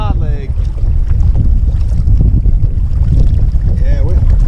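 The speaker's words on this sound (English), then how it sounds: "90 mile an hour wind" Strong, roaring wind buffets the microphone while kayaking on water, a loud, continuous rumble with brief faint voices at the start and near the end.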